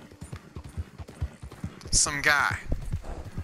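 Horse hooves clip-clop in a steady, quick rhythm while riding in Red Dead Redemption 2, with someone talking over the last half.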